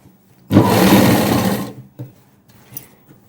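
A sewing machine runs a double stitch on dress pants with side frills, producing a single loud, close whirring burst of about a second, followed by a few faint clicks and handling sounds.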